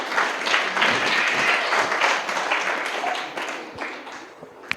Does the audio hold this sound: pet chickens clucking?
no